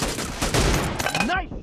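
Rapid gunfire in the mobile shooter BGMI during a team deathmatch in the Hangar map, loud bursts filling the short moment alongside game voice lines.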